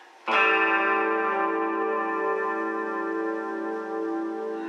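An electric guitar played through a Boss Katana amp with reverb sounds a single struck chord that rings out loud and sustained, slowly decaying with a lingering wash, no talk.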